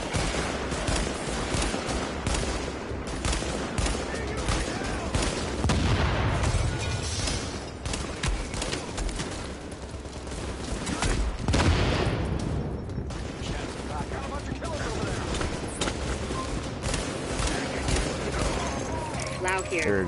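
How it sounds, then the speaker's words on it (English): Sustained machine-gun fire in a firefight from The Division, steady rattling bursts with heavier booms now and then, moderately loud throughout while someone talks over the shooting. "Machine gunner coming up the stairs."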